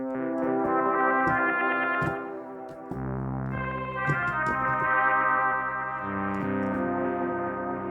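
Synth sampler notes from an MPC3 keygroup play a melodic pattern with echoing repeats from Air Delay Pro trailing behind each note, washed in delay and reverb, no voices.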